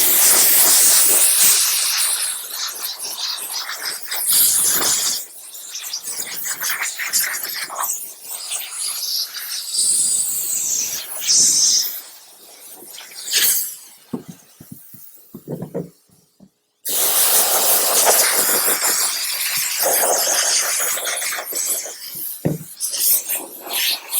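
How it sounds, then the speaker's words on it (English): Steam cleaner wand blasting steam into the cracks and crevices of a car exterior in freezing 15°F weather, loud close hissing in long bursts with brief pauses and one abrupt cutoff. "now cracks and crevices I'm going to blow out with just steam only"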